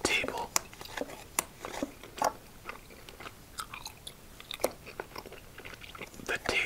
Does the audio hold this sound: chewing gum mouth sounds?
yes